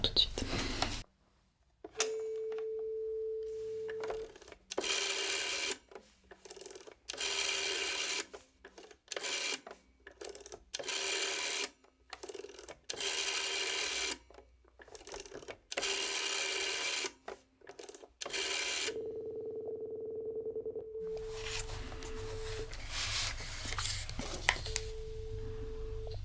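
Rapid bursts of clicking and beeping from a phone being dialed, with short steady tones between keypresses and a ringing tone near the end, close and crisp in a quiet travel agency setting.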